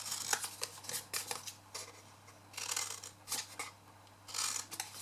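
Scissors snip away the corners of a card nail polish gift box, a quick series of close crisp cuts coming in uneven bursts.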